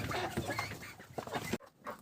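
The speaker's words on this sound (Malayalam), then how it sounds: "നാടൻ കോഴികൾ ഇവിടെ ഉണ്ട്" Native chickens clucking close by, a busy overlapping stream of clucks and calls that runs continuously, breaking off briefly near the end before one more call.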